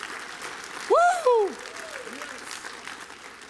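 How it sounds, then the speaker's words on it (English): A church congregation applauds and cheers in praise. A loud wavering 'woo' shout rises above a steady bed of clapping, then the crowd noise settles to a lower murmur. "put your hands together and clap and shout a praise to the Lord in this house"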